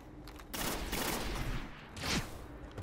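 Gunfire in the video game Destiny, a burst of loud sharp shots that runs as a dense volley for about two seconds and ends with a final crack, with no voices over it.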